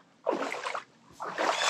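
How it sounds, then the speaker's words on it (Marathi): People wade barefoot through shallow water along a route, with two bursts of sloshing, splashing footsteps separated by a brief lull, close and fairly loud. "चला आम्ही पाण्यातून चाललोय."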